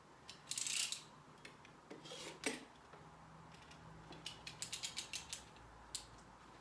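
A slightly blunt blade scrapes and cuts through wallpaper being trimmed around a difficult area, with short rasping strokes and a quick run of small ticking scratches, close and quiet.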